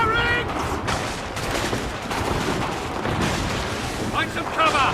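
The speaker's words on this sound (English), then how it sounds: "They're firing!" Musket volley in the video game Assassin's Creed 3, a dense crackling burst of gunfire that keeps rumbling over a battlefield, loud and close, with shouting voices mixed in.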